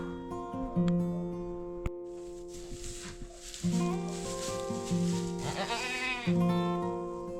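A goat shortly before giving birth bleats several times, loud wavering cries near the microphone over a constant tonal hum and some rustling.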